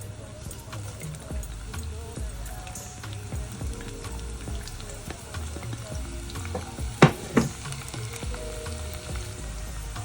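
Onions frying in oil in a pan give a steady low sizzle throughout, with a couple of sharp utensil clinks near the end and faint background noise.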